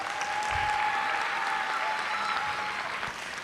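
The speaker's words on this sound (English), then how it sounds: "Can we hear a round of applause for them again?" Sustained audience applause for a school orchestra at a grade 6 spring concert, dense, steady clapping from a crowd that fades slightly at the end.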